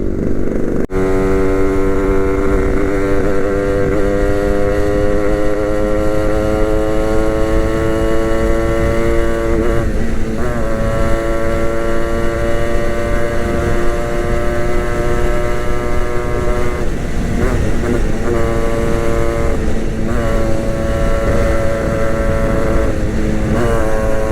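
A restored Yamaha RXG motorcycle rides at steady speed, its engine droning loud and close in a continuous buzzing tone with a few brief dips in pitch from throttle or gear changes, and no talk.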